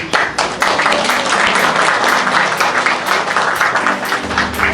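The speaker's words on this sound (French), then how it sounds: "vous pouvez vous-même vous applaudir." Graduates at a CAP diploma ceremony applaud themselves, a loud, close burst of many overlapping claps with distinct individual hits, steady throughout with faint voices beneath.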